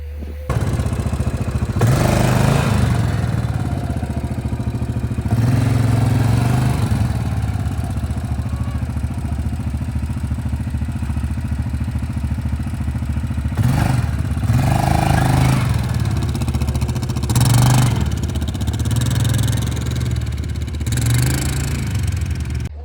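A four-wheeler ATV engine runs in snow while pulling a sled, a loud, close, steady mid-pitched drone that surges and revs several times with some clatter and brief voices.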